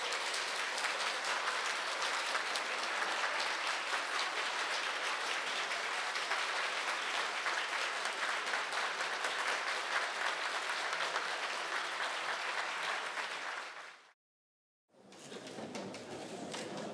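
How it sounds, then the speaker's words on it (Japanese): Sustained applause from the audience at a prefectural people's honor award ceremony in Chiba, welcoming the arriving guest of honor, steady and dense for about fourteen seconds, then a brief gap before clapping resumes. "皆様盛大な拍手でお迎えください。"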